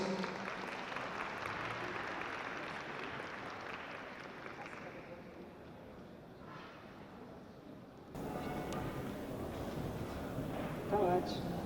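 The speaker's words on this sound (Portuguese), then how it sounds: "recebe o carinho e os aplausos de todos" An audience at a cultural funding congress claps steadily for an introduced speaker, a dense continuous patter of many hands that thins and fades before an abrupt shift to quieter room sound.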